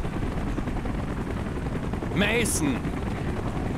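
A steady, loud helicopter rotor drone in Call of Duty: Black Ops fills the scene while a voice calls out briefly over it, with a sharper whine rising near the middle.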